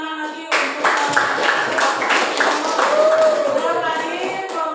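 Students in a classroom clap their hands together in a short burst of applause, starting abruptly and continuing steadily at close range, mixed with voices.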